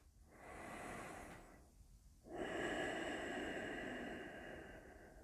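Deep breaths during a yoga core-strength class: a long drawn inhale, a brief pause, then a fuller, louder exhale, close to the microphone with no talking.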